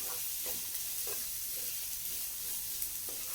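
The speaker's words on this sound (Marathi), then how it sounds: "तर आपल्याला ह्या भाज्या आहेत ना तेलावर चांगल्या वाफलून घ्यायच्यात" Chopped vegetables sautéing in oil in a pan while preparing bread pizza pockets, a steady soft sizzle with faint stirring sounds, no talking.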